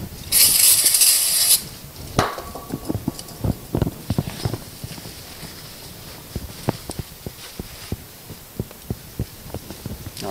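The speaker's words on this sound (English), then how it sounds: "I will clean it up with a bit of brake cleaner" A short, loud burst of brake cleaner hisses from an aerosol can onto the front brakes of a Subaru Sambar. Afterwards the clip moves on to quieter workshop knocks and clicks.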